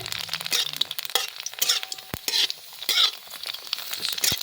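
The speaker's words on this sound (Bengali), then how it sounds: "এইটুকুনি তেলেও আমি কিন্তু ফুচকা ভাজছি" Fuchka puris fry in a small amount of oil in a pan and are lifted and dropped back in, giving soft sizzling broken by sharp crackles, pops and utensil scrapes at close range.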